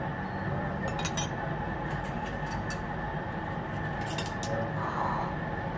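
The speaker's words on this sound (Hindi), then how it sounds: "पहले मैं फेंट रही हूँ, इसे अच्छी तरह फेंट लें" Light metallic clinks and taps come from a bowl as a mixture for noodle chicken balls is whisked, short scattered bursts over a steady low kitchen hum, with no talk.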